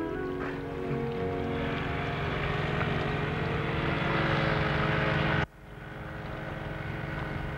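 A propeller airplane flies low over the Nile, a loud steady droning engine with a tonal whine that builds, then cuts off abruptly into a quieter background hum.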